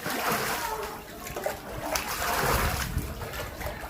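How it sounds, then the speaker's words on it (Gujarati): Water splashes and sloshes steadily as it is bailed out of a house flooded by rain, a continuous faint wash of pouring and trickling. "જો પાણી કાઢી રહ્યા છે."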